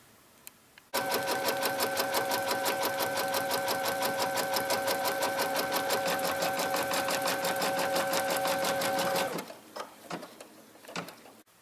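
An embroidery machine sews a pocket onto the main fabric during an in-the-hoop project, a close, loud, fast rhythmic stitching clatter that runs steadily for about eight seconds and then stops, followed by a few light clicks.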